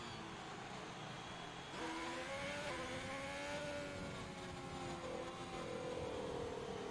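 A Formula 1 car engine from the F1 2020 racing game, held at full throttle at the Hungarian GP, sings in a steady high-pitched whine that climbs through gear shifts, loud and continuous with no talking.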